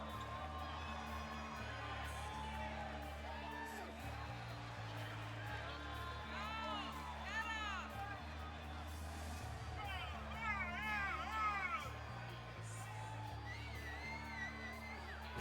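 A wrestling crowd cheering as the heavy metal bard Goliath heads to the ring, with steady whoops and yells under a droning music bed, the shouting swelling midway.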